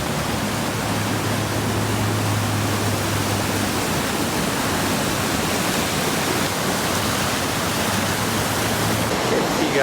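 Powerful rushing river water roars steadily and loudly on a Norwegian coastal route, a dense unbroken wash of noise with no gaps from start to end.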